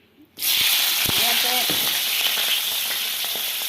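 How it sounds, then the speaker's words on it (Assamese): Onion and green chili drop into a hot wok and burst into a loud, sudden sizzle that holds steady and close, with a few stirring clicks. "দি দিলোঁ পিঁয়াজ আৰু জলকীয়াটো"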